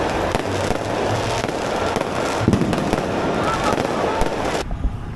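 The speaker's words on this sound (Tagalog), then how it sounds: "Kita nyo yun, yung fireworks." Dense crackling and popping of New Year fireworks going off continuously in Iloilo, with a voice briefly heard in the background noise.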